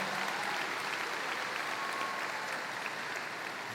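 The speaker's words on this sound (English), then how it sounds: "Let's have a round of applause" A commencement crowd applauds in a sustained, even roar of clapping that is fairly faint and distant, continuous throughout without voices on top.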